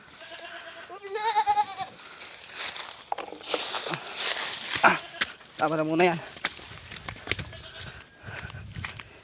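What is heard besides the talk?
goats bleating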